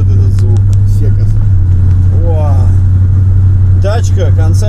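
Late-1970s Chevrolet Nova with a three-speed automatic gearbox, its engine holding a steady low, loud rumble throughout while people talk over it.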